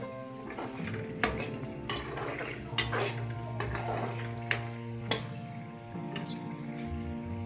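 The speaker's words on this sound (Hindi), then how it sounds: "कीमे को हम 5 से 10 मिनट के लिए भून लेंगे।" Minced meat keema fries in a pan while being stirred, with a low steady sizzle under repeated sharp scrapes and clinks of the spoon against the pan, close and without talk.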